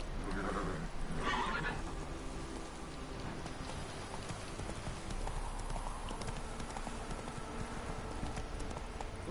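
A horse's hooves clip-clop at a steady trotting rhythm in The Witcher 3 video game, mixed with the patter of rain and continuing unbroken throughout.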